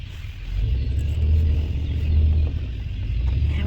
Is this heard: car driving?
yes